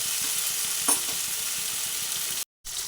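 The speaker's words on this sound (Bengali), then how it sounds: "বেশ কিছুক্ষণ ধরে কষিয়ে নেব এইভাবে বেশ কিছুক্ষণ কষিয়ে নেব" Chicken sautéing in oil in a pan over lowered flame for Mughlai chicken, a steady close sizzle with a soft stir knock, cut by a brief silent gap near the end.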